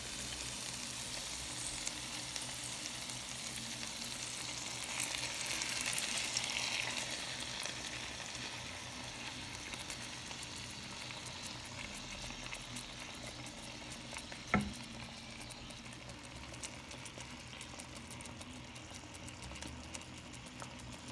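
Sauce poured into a pan of stuffed pasilla peppers sets off a steady low sizzle and bubbling that swells briefly, then settles, with one sharp knock partway through; close and soft, no talk.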